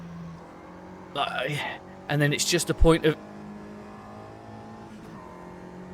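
Mini touring car engine in Automobilista 2, revving hard in short surging bursts with a steady drone beneath, while someone talks over it.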